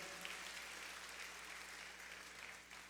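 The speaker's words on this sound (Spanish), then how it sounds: "Le damos un aplauso al Señor." A church congregation claps for the Lord during a Spanish-language service, a soft, steady patter of hands heard faintly and evenly, fading slightly at the end.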